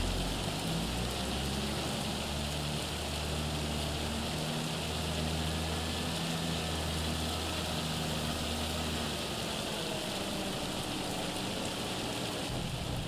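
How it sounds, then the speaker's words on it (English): Steady heavy rain hisses continuously over a vineyard field, with a low engine hum running beneath it throughout. "And it is raining quite heavily"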